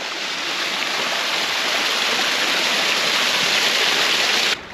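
A small colourful waterfall on a La Palma hiking route along a river rushes in a steady, loud, broadband roar close by, constant throughout with no talking.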